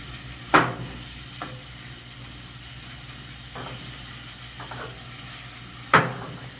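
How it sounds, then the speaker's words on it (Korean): Pork belly is stir-fried over low heat in a pan, giving a quiet continuous sizzle with a few sharp clacks and scrapes from stirring, close and faint, with no voices. "약하게 해서 볶아주세요"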